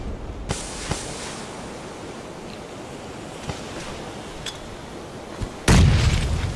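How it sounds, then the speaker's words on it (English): A grenade explosion in the video game PlayerUnknown's Battlegrounds, a sudden loud blast near the end after a stretch of ambient rumble punctuated by a few faint distant thuds. "that nade is gonna get me"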